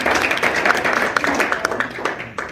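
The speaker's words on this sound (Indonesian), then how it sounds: "Tepuk tangan untuk Yesus." Congregation clapping in applause during an Indonesian church worship service, a dense, steady patter of many hands filling the room for a few seconds, with some voices mixed in.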